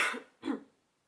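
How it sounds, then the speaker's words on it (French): Two quick, dry coughs sound close and fairly quiet from a woman with a dry throat who is not ill, followed by silence. "alors je tousse mais je suis pas malade, hein."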